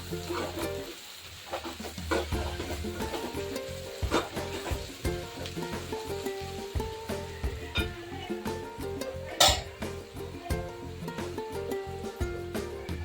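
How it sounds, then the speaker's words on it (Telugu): Turmeric ginger paste and onions sizzle in a pan while a spoon stirs them, giving a steady fry with repeated scraping strokes close up. "పసుపు అల్లం పేస్ట్ వేసుకున్నాం కదండి, మంచిగా కలుపుకుందాము"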